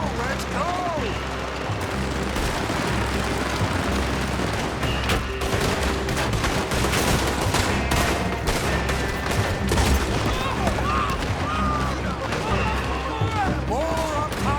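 Sustained gunfire from a Red Dead Redemption 2 shootout, dense overlapping shots and rapid bursts running throughout, loud and continuous, with shouted voices and game music mixed underneath.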